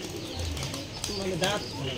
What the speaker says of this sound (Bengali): সব কবুতরগুলো দেখতে পাচ্ছেন সিরিয়াল হয়ে বসে আছে